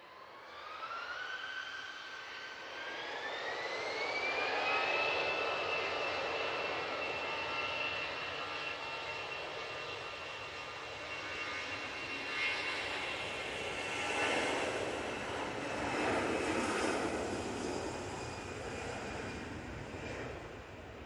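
An EasyJet jet airliner takes off at Manchester Airport, its engines building into a loud, sustained roar with a rising whine that climbs, then holds steady and rumbles on as the aircraft passes, with no voices over it.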